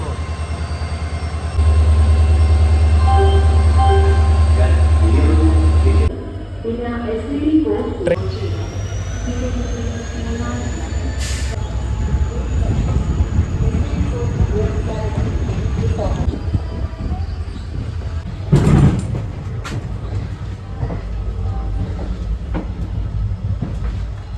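An ALCO diesel train runs from Shoranur to Nilambur in heavy rain, engine drone and rolling rail noise filling the interior, with a loud steady hum early on and a voice talking over it.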